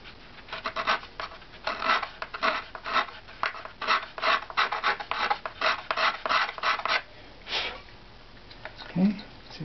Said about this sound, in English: Now I'll just scrape right up.